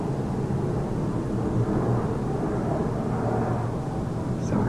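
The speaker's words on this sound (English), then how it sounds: "I know you hear that airplane going by" A steady, distant drone of a propeller airplane passing overhead, low and even throughout, with no one speaking.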